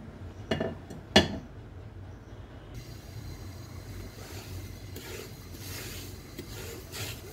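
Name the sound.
swapping cooking pots on the stove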